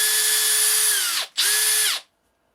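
Makita 40V Max HP001G cordless hammer drill revving in two bursts, a high whine that drops in pitch as each burst winds down, then stops abruptly; loud and close, no talking.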